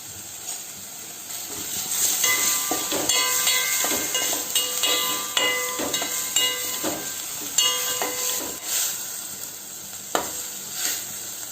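Tomato frying in a pan with turmeric powder, a steady close sizzle and hiss with scattered clicks and scrapes of a stirring spoon against the pan throughout.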